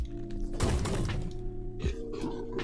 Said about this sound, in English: right now it has a small explosion on the impact with the blocks